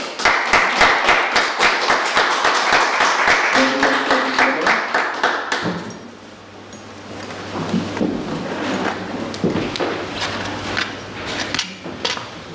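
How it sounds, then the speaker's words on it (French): A crowd applauds loudly at a town medal ceremony in Caudry, France, dense, steady clapping for about six seconds, then it thins to scattered claps and room noise. "tout cela mérite quelques applaudissements"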